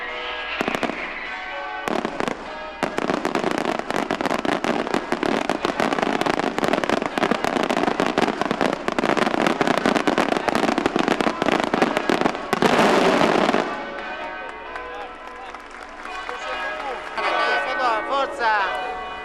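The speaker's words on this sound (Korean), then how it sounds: "하늘에선 폭죽이 장렬하기 시작합니다" Fireworks burst over a square during the Santa Lucia festival in Syracuse, Sicily: a dense, loud, continuous barrage of crackling bangs for over ten seconds, then easing into scattered pops and crowd noise.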